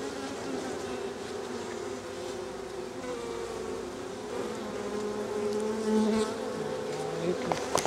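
Bees buzz steadily around an opened beehive full of brood, a dense close hum of many insects that holds throughout with slight swells, no talking.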